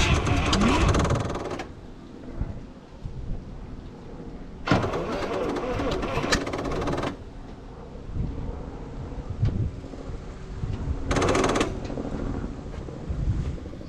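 The starter of a 1968 International truck churns the engine in long, steady cranking stretches without it catching, loud and close, with gusts of wind noise over the microphone.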